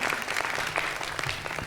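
Audience at a Bhojpuri folk singing show breaking into applause, dense rapid clapping from many hands, close and steady throughout.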